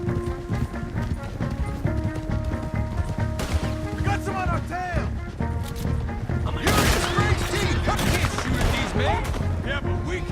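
Gunfire in a Red Dead Redemption 2 shootout, with hoofbeats of horses and a loud burst of shots and impacts under dense game sound and music, voices shouting through the fray.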